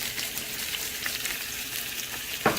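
Chopped onion and garlic frying in a hot pan with spiced potatoes, a bright continuous sizzle with crackling pops and a brief louder scrape of stirring near the end, close up and without talk.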